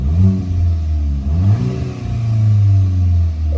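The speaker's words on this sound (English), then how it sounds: "you switch it to sport mode and you get a lot more pops out of the car" 2022 Volkswagen MK8 GTI in sport mode, its engine revving loudly and close with a strong, steady exhaust drone that dips briefly mid-rev before climbing again; distinct pops are not clearly separable.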